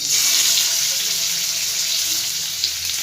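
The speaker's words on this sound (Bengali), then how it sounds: "দিয়ে আস্তে আস্তে আমি ওগুলোকে একে একে ফ্রাই করে নেব।" Marinated chicken pieces for chicken changezi fry in a pan over a low flame, producing a loud, steady, broad sizzle that holds evenly throughout without talking.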